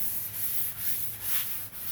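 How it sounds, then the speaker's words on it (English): Sandpaper rubs back and forth across a candy-painted panel in steady strokes, a close, hissing scrape repeating about every half second. "Hopefully you can hear me over the sanding."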